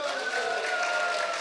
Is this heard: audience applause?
yes